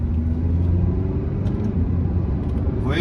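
An Alfa Romeo Giulia diesel accelerates in manual third gear, its engine a steady, close low rumble throughout, with someone speaking briefly over it.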